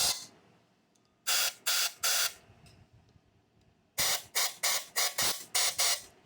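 Compressed air blasts through a cylinder head port on a 2007 Kia Spectra EX engine during a rebuild: loud hissing bursts, three at first, then a quick run of six after a pause, with quiet gaps between.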